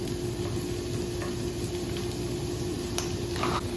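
Raw garlic and onion frying in melted butter over low heat, a continuous close crackling sizzle with occasional faint stirring clicks, steady in level throughout and free of speech.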